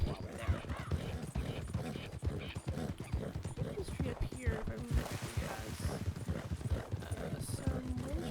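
Horse hooves in Red Dead Redemption 2, a steady rhythmic clip-clop of a walking horse heard close and continuous, with someone talking over it.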